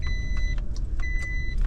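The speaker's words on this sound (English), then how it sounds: "dang doggone thing beeping's driving me crazy" Repeated short electronic beeps at a steady tone over a low idling car engine rumble, close by.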